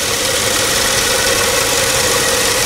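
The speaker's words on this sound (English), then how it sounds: "you can enjoy the idle with me after approximately 5 minutes" A car engine idles steadily after a helicoil repair of a stripped spark plug thread, a loud, continuous, even rumble heard close with no talking.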